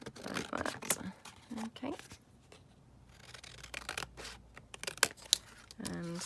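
Paper pieces for a coffee-dyed altered guest check Christmas craft are snipped with scissors in short bursts of crisp cutting and rustling, close up, with someone talking between the cuts.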